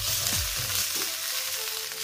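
Onion, green chili and crushed garlic and ginger frying in a pan for a Kerala fish molee, a constant close hiss with a couple of brief stirring scrapes at the start.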